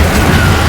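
Incendio fire spell cast in the video game Hogwarts Legacy, a short dense burst of whooshing flame and boom filling the whole moment, loud and close, with no talk over it.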